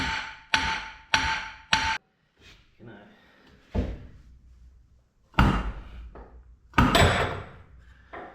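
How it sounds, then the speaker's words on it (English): A series of heavy metallic sledgehammer bangs on a Miata rear suspension part, three quick strikes then scattered louder hits with ringing decay, close by, with quieter clatter between. "Be careful hitting it with a sledgehammer, don't mar your threads."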